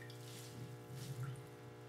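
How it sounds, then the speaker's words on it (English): Water squeezed from wet shredded newspaper bedding for a worm composting bin drips and trickles faintly over a low background hum, with a brief louder splash near the middle. "we're going to squeeze out the excess moisture"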